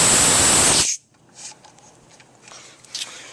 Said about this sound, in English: It's got the release valve right here, or you can use the little valve on the bottom.